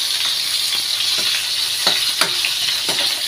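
Garlic and onion sautéing in a hot pan for pork broccoli, a steady close sizzle broken by several sharp scrapes and taps of a stirring utensil, with no talking.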